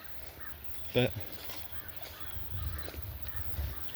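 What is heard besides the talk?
crows cawing on a nature walk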